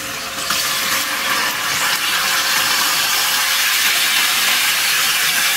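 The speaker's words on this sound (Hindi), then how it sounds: "4 टेबलस्पून के करीब ऑयल डाला है और इसे गर्म किया है। उसके अंदर हम चिकन डाल देते हैं।" Chicken pieces frying in about four tablespoons of hot oil in a home kitchen pan, giving a steady, loud, dense sizzle and hiss that rises sharply at the start and holds evenly throughout, with no talking.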